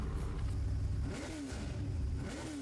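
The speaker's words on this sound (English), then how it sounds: "We're about to let this engine roar." An all-wheel drive car engine revs hard at a gymkhana, its loud, steady roar rising and falling in pitch through repeated throttle blips, close and continuous without talk.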